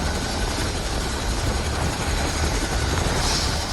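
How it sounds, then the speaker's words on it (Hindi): A rescue helicopter arrives at a cloudburst disaster site in Dharali, Uttarakhand, its rotor throbbing loud and close as a steady broadband roar that fills the whole clip without any voices. "अभी हेलीकॉप्टर यहाँ पहुँचा है और कुछ लोगों को लेकर के वहाँ से आया है"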